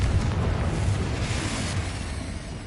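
A Confringo fire spell bursts in Hogwarts Legacy with a dense, rumbling explosive boom that rolls on steadily and fades slightly toward the end.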